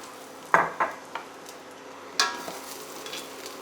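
Halved mushrooms drop into a metal pot for a vegetarian beef bourguignon, giving a few distinct clunks and clatters close by, followed by faint rattling and light sizzling.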